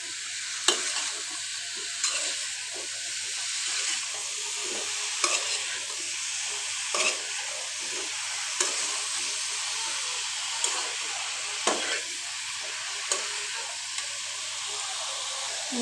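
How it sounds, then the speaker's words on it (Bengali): Eggplant and potato stir-fried in oil for a hilsa and eggplant curry: a long, continuous sizzle with a faint hiss, broken every second or so by sharp spatula clicks and scrapes against the pan. No voices. "তো বেগুন আলুকে আমি এভাবে কষিয়ে নিব ভালো করে"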